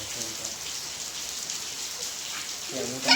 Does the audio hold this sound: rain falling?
yes